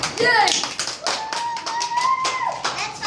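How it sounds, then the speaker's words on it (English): Scattered audience clapping after a children's performance of the story of Esther, a handful of distinct, uneven claps with children's voices and talk running through it. "Audience clap"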